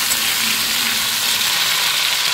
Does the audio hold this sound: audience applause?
no